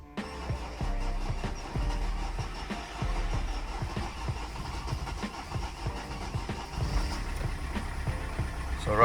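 Vauxhall Corsa engine idling rough and shaky, with a low uneven rumble and irregular pulsing throb heard close and steady, no talk, swelling slightly near the end.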